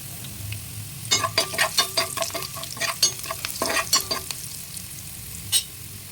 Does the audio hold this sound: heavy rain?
no